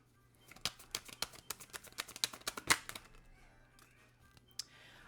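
Tarot cards are drawn and shuffled in quick, light taps and flicks. The soft, close clicks come in a rapid flurry, then thin out into a few scattered snaps.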